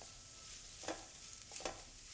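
Potatoes and carrots stirred and cooked in a pan with a little water, giving soft scraping stirs and faint sizzling in a few brief bursts, close and fairly quiet.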